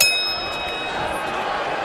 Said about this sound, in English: Bell sounds for round one.